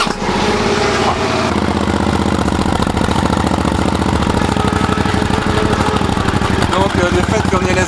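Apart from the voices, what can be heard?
modified Suzuki SV 650 motorcycle engine starting and idling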